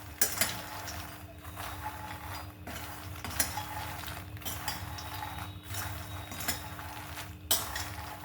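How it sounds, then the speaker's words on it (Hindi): Makhana (fox nuts) being stirred continuously in a pan over a low flame, giving soft scraping and clinking of a spoon against the metal pan in an uneven rhythm, with a few sharper knocks, at close range. "कंटिन्यू हमें चलाते रहना है मखाने को, बिल्कुल भी रोकना नहीं है"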